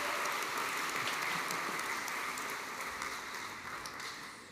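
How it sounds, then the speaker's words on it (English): A graduation ceremony crowd of business and construction graduates and guests claps in a hall, a sustained wash of applause that gradually fades softer over several seconds. "business and construction graduates another big round of applause."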